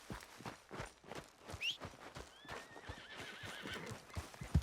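A horse in Red Dead Redemption 2 whinnies loudly with a rising squeal, while steady clip-clop hoofbeats of a walking horse carry on throughout, close and clear.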